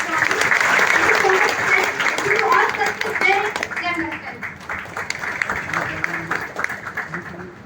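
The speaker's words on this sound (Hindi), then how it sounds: "एक बार जोरदार ताली" Loud hand clapping from an audience at a marketing company event, strong at first and gradually thinning out, with a voice talking over the fading claps.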